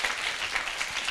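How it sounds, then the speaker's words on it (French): Audience applause at a children's school presentation, dense continuous clapping at moderate volume for about a second. "Un applaudissement très fort pour Zainab Koulibaly."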